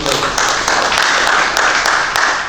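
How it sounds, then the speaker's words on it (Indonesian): A congregation at an Indonesian church service claps together, giving a loud, dense burst of applause that fills the room and stays steady for a couple of seconds. "Tepuk tangan dulu dong buat Tuhan Yesus."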